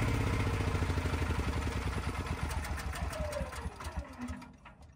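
A small standby generator sputters and surges unevenly as it runs out of fuel, its rapid chugging engine beat faltering and slowing before cutting out near the end, heard up close.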